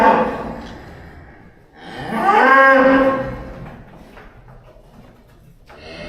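Cattle on a farm, cows and calves being sorted for winter, give one loud drawn-out moo that rises and fades in the middle, with fainter lowing and shuffling noises around it and no talk.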